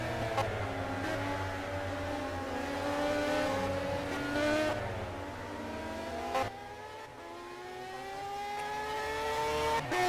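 Race cars in the Simraceway sim racing game, a pack of engines droning and revving together with rising and falling pitch sweeps as gears shift, steady and fairly loud throughout with no talk.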